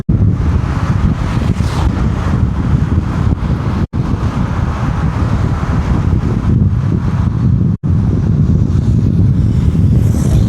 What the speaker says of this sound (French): Il y a beaucoup de vent en plus à cet endroit-là.